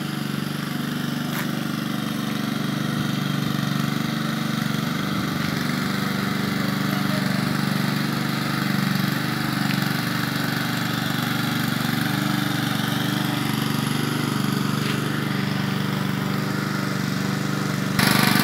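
A water suction pump engine drones continuously while drawing river water to fill a catfish pond outdoors, a steady mid-pitched motor hum that stays level and close throughout.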